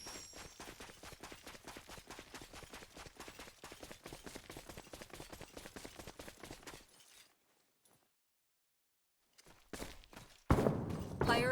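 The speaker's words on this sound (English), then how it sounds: "That sound. It's Imperial gunfire." Rapid bursts of gunfire in the video game Star Ocean The Divine Force crackle in a dense, even rhythm, then fall silent; after a pause, scattered bangs return and a loud blast erupts near the end.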